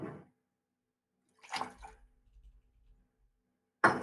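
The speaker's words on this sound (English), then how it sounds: "Now, I'm going ahead and I'm pouring this into a glass with ice so that I can stir it" Cocktail poured into a glass of ice, a short splashing pour with a light clink, set apart by silence from a couple of other brief bursts.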